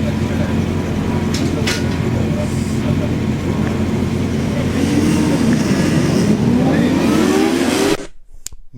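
Vintage motorcycles rumble and rev at a cautious restart during a four-hour endurance race at the Carole circuit, a continuous droning engine roar with rising pitch as bikes accelerate, cutting out sharply near the end.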